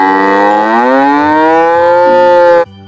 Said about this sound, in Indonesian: sapi teman-teman.